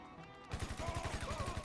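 Rapid automatic gunfire in the video game GTA 5 Online, a close burst of about a dozen quick shots after a brief quiet moment.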